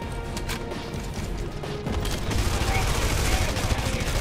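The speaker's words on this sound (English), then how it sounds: "I wanna try that gun out." Rapid gunfire from a weapon in the Red Faction Guerrilla video game, a dense stream of shots with crashing impacts that grows louder partway through, over steady game noise.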